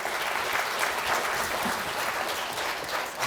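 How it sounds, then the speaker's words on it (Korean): A lecture audience at a Korean health talk on diabetic kidney disease claps to welcome a professor to the stage, a steady, even round of applause heard throughout. "큰 박수로 환영해 주시기 바랍니다."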